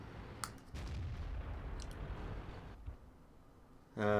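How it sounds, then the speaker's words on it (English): In a World of Tanks-style game with an E-25 tank destroyer, a shell strikes the ground close by. A dull, low, rumbling impact swells and lingers for a couple of seconds, followed by a loud burst of sound at the very end. "something shot the ground where I was"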